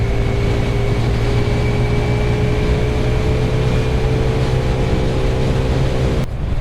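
A 2024 TVS Radeon 110cc motorcycle cruising in fourth gear, a steady loud engine drone mixed with heavy wind rush, continuous and unchanging until a brief dip at the very end.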